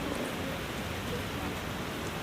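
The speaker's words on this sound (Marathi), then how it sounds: "आत्ता पाऊस पडतोय" Rain falls steadily after a hailstorm, an even, soft hiss of drops on surfaces at low volume that continues unbroken throughout.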